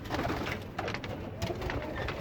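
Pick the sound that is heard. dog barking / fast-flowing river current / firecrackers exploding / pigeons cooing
pigeons cooing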